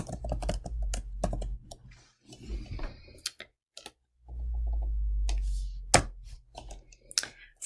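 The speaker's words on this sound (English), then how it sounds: "I'm going to start typing the word median and hit a bracket" Computer keyboard keys tapping in uneven bursts while entering formulas in Google Sheets, some sharp single clicks, close and fairly quiet, with a low hum swelling in between.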